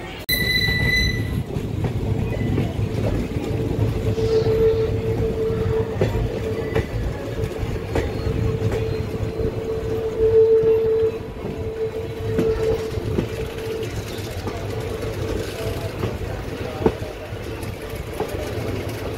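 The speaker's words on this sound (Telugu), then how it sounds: "ప్యాసింజర్ ట్రైన్ అండి" A Madurai to Rameshwaram passenger train runs at speed with a loud, steady rumble, a thin wheel squeal rising and fading above it and faint clatter throughout, close and continuous with no speech.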